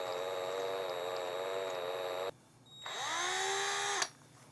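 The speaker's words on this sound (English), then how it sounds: "That's not what you want to drill with." A power drill runs steadily while renovating a 40-year-old RV, winding down briefly before revving up again with a rising whine, loud and close with no talk over it.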